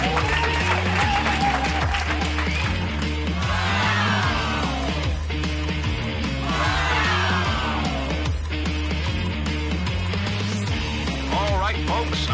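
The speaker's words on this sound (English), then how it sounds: "Come on, folks, let's hear that applause" A loud, continuous stretch of audience applause and cheering at a live show, with whoops and yells rising over the clapping and music playing underneath.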